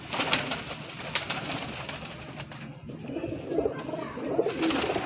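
Pigeons, a bred pair of original teddy pigeons, coo and call steadily in a loft, several birds overlapping at close range with a busy background hum and no talk.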